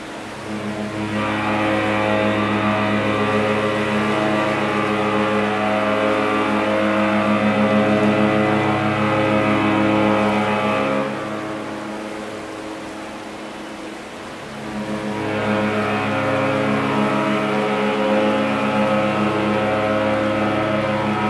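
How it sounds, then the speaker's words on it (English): AIDAdiva cruise ship's horn sounding at sail away from Haugesund, a loud, sustained low harmonic blast lasting about ten seconds, a brief drop, then a second long blast, booming alone with no voices. "of course we can listen to the sound of the ship's horn again"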